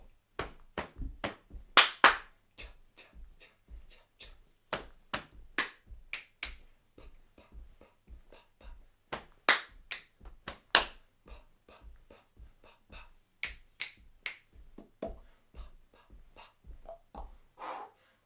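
Body percussion rhythms from a school music lesson: crisp hand claps and thudding foot stomps in a steady marching pulse, with syncopated patterns layered on top, close and dry, with no talking.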